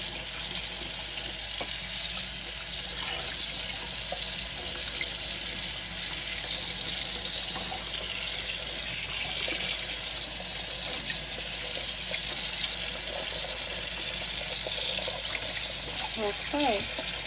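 Nopal cactus pads are washed under a running tap. A steady hiss of flowing water runs throughout, with small splashes and shifts as the pads are handled.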